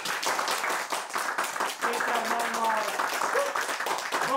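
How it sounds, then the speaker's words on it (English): A crowd at a slam poetry discussion in a Košice cinema claps steadily under a voice calling out names, close and lively throughout. "Please, big applause."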